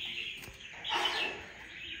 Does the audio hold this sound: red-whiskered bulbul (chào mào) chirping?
yes